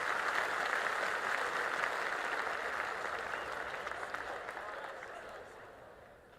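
Crowd applause from the Cricket 26 video game during an Australia versus England Ashes Test match, fairly quiet and continuous, slowly fading over several seconds.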